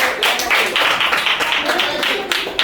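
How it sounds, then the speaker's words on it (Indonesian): A classroom full of students claps together for the first group, a dense, steady burst of applause that carries on without pause. "Oke, tepuk tangan."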